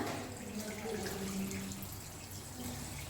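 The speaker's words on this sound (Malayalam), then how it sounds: "അപ്പൊ ഞാൻ എന്റെ ഫേസ് വാഷ് ചെയ്യാണ്" Tap water runs steadily during a face wash, a soft continuous splashing flow, fairly quiet and close, with no talk.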